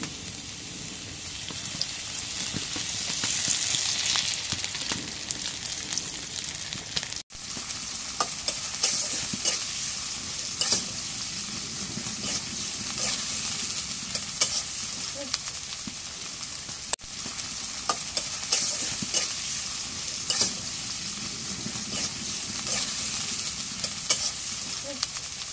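Water poured into a frying pan while stirring up a paste for a potato and greens fry, giving a steady, dense sizzle with a patter like rain and frequent sharp stirring clicks throughout.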